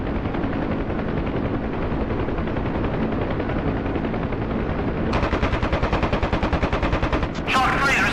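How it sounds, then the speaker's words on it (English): Heavy gunfire in a DCS Huey helicopter combat sim: a dense steady roar of rotor and rapid shots, shifting at the end into a sharp, rhythmic burst of close machine-gun fire. "We're taking fire! We're taking fire!"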